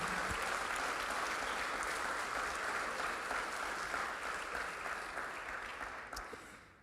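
A church congregation gives sustained applause, a dense, even wash of clapping that holds steady and then fades away over the last couple of seconds.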